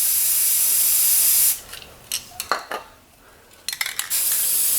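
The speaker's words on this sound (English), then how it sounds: "go ahead and spray your other color in there" Spray paint hisses onto water for hydro dipping a deer skull, a steady loud spray that stops, then a few short bursts and rustles before the spray resumes at full strength.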